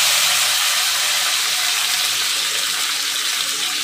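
Chopped tomatoes hit hot oil already crackling with fried whole spices and dried red chilli, giving a loud, steady, close sizzle that hisses evenly for the whole stretch with no voices.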